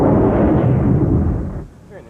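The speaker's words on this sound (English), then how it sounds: "creating new sounds to give Das Boot's hull noises and explosions even greater drama" A deep, rumbling blast with a long roaring low-end body that fades out, a heavy film explosion sound effect recorded in a swimming pool.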